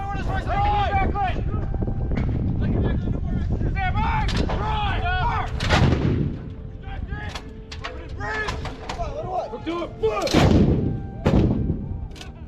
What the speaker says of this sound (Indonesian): M777 adalah meriam 155 mm yang dianggap sebagai salah satu yang terbaik dan paling kuat dalam melepaskan peluru 155 mm dari semua jenis senjata